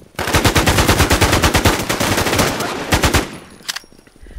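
Rapid automatic gunfire in the video game Infestation Survivor Stories, a loud close burst of evenly spaced shots lasting about three seconds, then a single distant shot and quiet.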